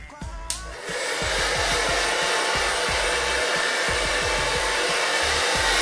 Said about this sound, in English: you're going to be blow drying the roots first.